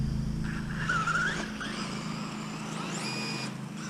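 A Tamiya BBX BB-01 radio-controlled car with a loose slipper clutch drives steadily, its motor whining while its tyres give short squeals and scrubbing skids.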